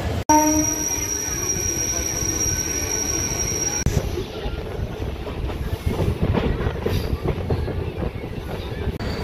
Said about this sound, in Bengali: আগে ট্রেনে উঠি, এখান থেকে প্রথমে খড়গপুর যাই